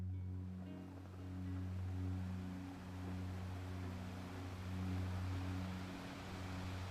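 Waves lap against a ship at sea, a soft, rolling wash that swells and eases over a low droning hum, faint and continuous with no voices.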